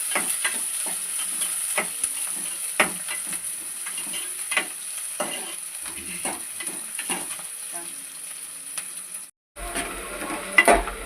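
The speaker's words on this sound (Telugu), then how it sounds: "ఆనియన్స్ ఫ్రై కొంచెం గోల్డ్ కలర్లోకి వచ్చాక టమాటా వేసుకోవాలి." Chopped onions and green chillies sizzle steadily in a pan for a village-style duck curry, with frequent scraping stirs close by, then a brief pause before the frying resumes.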